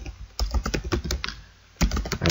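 Quick keystrokes on a computer keyboard as a network device command is typed, a close burst of clicks, a brief pause, then another run of keys.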